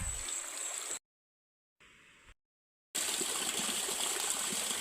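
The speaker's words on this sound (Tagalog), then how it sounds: "Ito yung daluyan ng tubig, kawayan lang pero fresh talaga." Fresh water flowing through a simple bamboo channel outdoors, a steady close rushing gush that cuts out briefly and then returns just as strong.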